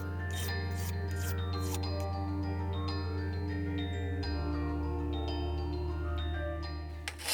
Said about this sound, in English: I'm using these small needle files to get into the corners